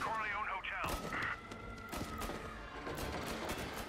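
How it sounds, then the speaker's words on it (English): Gunfire bursts and thuds during a shootout at a hotel in the Mafia video game, sharp hits scattered over a busy mix with game voices and music underneath. "Gunfire and an explosion reported in the Corleone Hotel."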